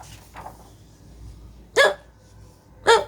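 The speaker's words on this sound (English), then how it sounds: "Hiccup again?" Two sharp, loud hiccups stand out clearly about a second apart, each a brief voiced gulp, heard during a children's story read aloud about a kitty with the hiccups, over a quiet background with no talk.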